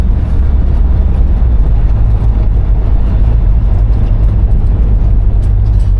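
A 1972 Buick GS engine and exhaust drone continuously with a loud, dense low rumble while the car is driven.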